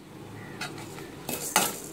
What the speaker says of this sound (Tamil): வெறும் சட்டியில் ரொம்ப கருக விடக்கூடாது. இந்த மாதிரி வறுக்கணும்.